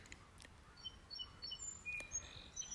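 Barn swallows chirp and twitter in short, high calls inside a barn against a quiet background, fairly faint and scattered, with no voices.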